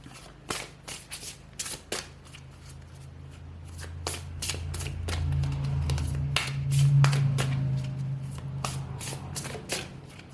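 Oracle cards being shuffled by hand, a run of quick riffling flutters and taps, then a longer continuous shuffle, close and fairly soft with no talking.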